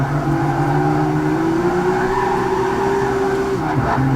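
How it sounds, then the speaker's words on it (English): Rear tyres of a Nissan 350Z race car squeal steadily as the car slides sideways through a hairpin in a racing video game, with a loud, continuous engine drone underneath for the whole stretch. "Slicker lighting up the rear tyres, getting sideways"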